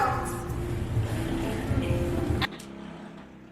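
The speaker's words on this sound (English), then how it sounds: "Person with a loud ass car is back." A loud car rumbles steadily with a deep low-end drone, then cuts off abruptly into a quieter background with faint distant sound.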